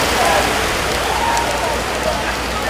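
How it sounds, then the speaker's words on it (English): Heavy rain pounds down steadily at Santa Cruz Park during a football match, a dense, loud, continuous hiss filling the whole stretch. "The rain is heavy and pounding"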